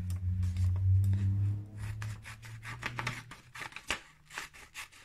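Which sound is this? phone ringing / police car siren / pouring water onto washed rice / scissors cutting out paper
scissors cutting out paper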